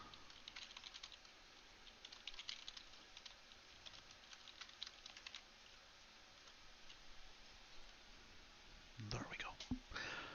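Soft, rapid keystrokes patter on a computer keyboard during an online lunch-and-learn session, irregular clicks continuing for several seconds, faint and close, followed by a short rustle.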